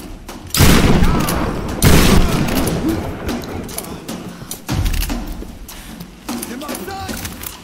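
Enemy gunfire in the 2013 Tomb Raider video game: several loud, close bursts and booming shots strike in uneven clusters across the clip, with lighter crackling and rumble carrying between them.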